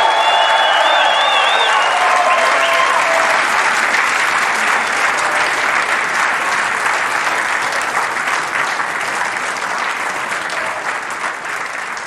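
Sustained, loud applause and cheering from a snooker arena crowd after the 2021 Champion of Champions final, saluting the runner-up, with a few whistles early on, fading slightly over twelve seconds.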